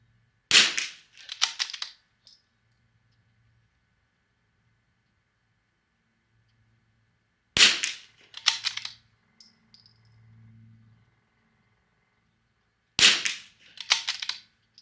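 Three rifle shots from Lapua and SK long range ammunition, each a sharp, loud crack with a brief echoing tail, spaced several seconds apart with near silence between them.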